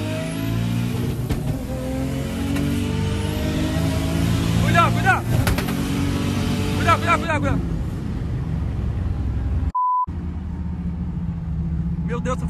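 A Toyota Supra with a turbocharged 2JZ engine revs hard with a loud rising and falling roar and rapid gear-change pulses, then its tyres screech on the pavement. A brief beep follows, and people talk excitedly over the engine.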